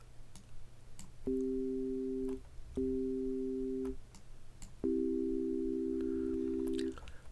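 A 1980s FM synthesizer plays pure, steady electronic tones stacked into a chord. They come in three quiet bursts with short gaps between them, and the last chord holds longest.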